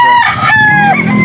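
A rooster crows loudly and close by in one long drawn-out call, its harmonic cry rising and then falling off near the end, with a faint cluck under it at a Filipino fowl market, where people haggle over birds.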